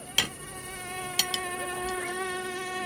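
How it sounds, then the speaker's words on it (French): Mosquitoes whine with a steady, high buzz on an evening outdoors, the tone wavering slightly as they fly close, with a few sharp taps breaking in near the start. "Mais ça, c'était sans compter sur les moustiques."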